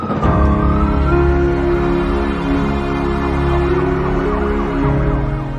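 Ambulance siren wailing loudly and steadily throughout, its rising and falling tones close and continuous over a background of traffic, for a COVID-dedicated ambulance service in Himachal Pradesh.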